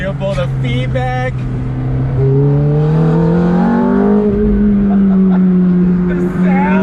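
A 2005 Ferrari F430 Spider engine revs high and accelerates hard, its pitch climbing steadily through the gears with a loud, close, sustained howl.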